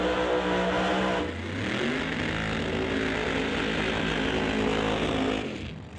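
A 1957 Chevrolet Bel Air pro mod drag car accelerates hard down the track, its engine a loud, roaring, harmonic-rich blast that climbs in pitch through a gear change and holds at full power.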